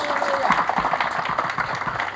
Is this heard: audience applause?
yes